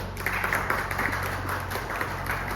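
Audience applause rises at a real estate panel conversation, a soft, continuous patter of clapping over a steady low hum, even in level and fairly distant.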